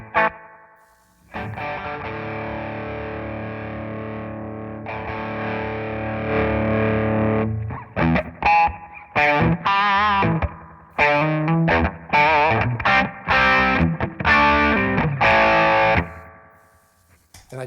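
A 1978 Ibanez Iceman guitar played through a Nobels ODR-1 overdrive pedal with delay: a long sustained distorted chord rings out, then choppy riffing with stops and delay tails, loud and close.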